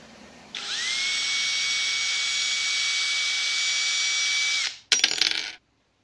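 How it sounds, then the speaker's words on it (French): A drill (chignole) bores into a door. A steady, high, whining drone runs for about four seconds and rises slightly as it spins up, then stops and is followed by a brief, loud rattle. "Passe-moi la chignole."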